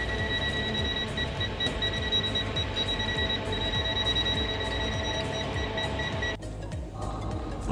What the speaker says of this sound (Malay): bunyi beep ni menandakan ada arus elektrik dekat kawasan-kawasan tu